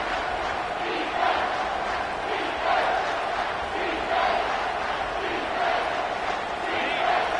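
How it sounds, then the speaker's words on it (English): Video game stadium crowd at an Ole Miss Rebels versus LSU Tigers college football matchup in EA Sports College Football 25, a dense, continuous roar swelling in repeated waves of chanting. "This crowd rising up, sensing that its defense needs some help."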